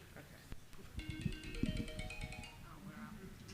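A phone alarm rings in a panel discussion room, a repeating electronic melody of bright tonal pulses lasting a couple of seconds, fairly faint beneath people talking nearby.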